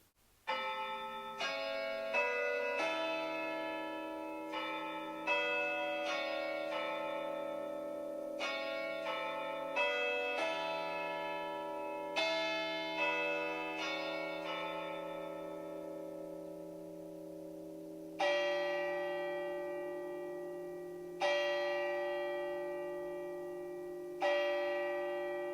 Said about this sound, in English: the chimes of a neighbouring church struck the 4 quarters